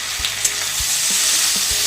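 Chopped medium tomatoes hitting softened frying onions in a pan for paneer butter masala, a loud continuous sizzle with a few sharp knocks of a spoon against the pan.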